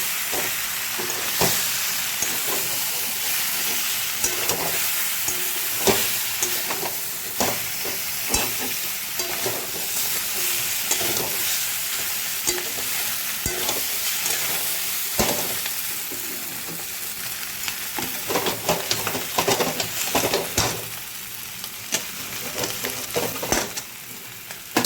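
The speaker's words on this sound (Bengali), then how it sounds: "এবার একটু ওলট পালট করে হালকা হাতে নাড়াচাড়া করে দেবো।" Food fries vigorously in a pan while it is gently turned and stirred, a loud, continuous close-up sizzle with repeated clattering scrapes of a utensil throughout, no voices over it.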